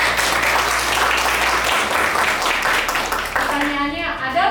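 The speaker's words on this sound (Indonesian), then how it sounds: "tepuk tangan dulu buat Vira" Applause in a university teaching session, given for a student: a dense, continuous wash of clapping over a low hum that cuts out partway, with voices rising as the clapping tails off at the end.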